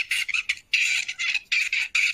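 Young songbird's first, highly distorted attempt at its song: a string of harsh, buzzy bursts repeated in quick succession, loud and close with short gaps, no voices.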